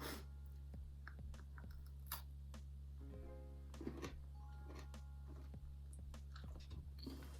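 Quiet crunching and chewing of milk chocolate toffee coated popcorn, irregular crisp bites and mouth clicks close to the mic over a low steady background hum, with no talking.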